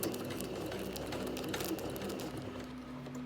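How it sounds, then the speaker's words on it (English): A sewing machine with a free-motion foot runs a steady straight stitch around appliqué pieces, a quiet, continuous rapid chatter close by. "I'm going to go round the outside just with a straight stitch to secure the pieces"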